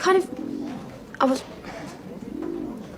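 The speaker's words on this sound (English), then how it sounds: "Lynda, we've got to do something about those birds." Pigeons or doves cooing close by, a few soft throaty coos and a brief sharper call, rising over a quiet indoor room where people talk.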